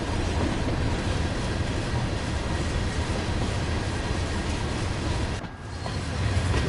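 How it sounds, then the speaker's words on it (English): Cement freight train in Train Sim World rolling steadily out of a yard over points, a continuous loud rumble of wheels and wagons with a brief dip near the end. "Just wait for the rear of the train to clear all those points."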